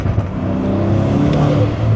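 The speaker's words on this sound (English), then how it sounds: "Hear that sound, just the air just sucking into the engine." A rebuilt BMW M5 engine with a hybrid turbo, new pistons and rods revs loudly up close, its low engine roar carrying a whooshing air-intake rush.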